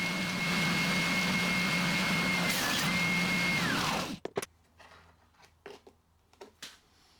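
A belt sander grinding a steel marking knife gives a loud, steady broadband whine with a tone that dips briefly, then cuts off after about four seconds, leaving scattered faint clicks and handling noises.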